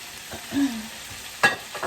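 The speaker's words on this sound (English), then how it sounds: "I'm adding back in my caramelized onion." Caramelized onion dropped back into a pan on medium heat gives a soft sizzle with brief stirring scrapes and a sharper metallic clatter near the end, close and fairly quiet, no talking.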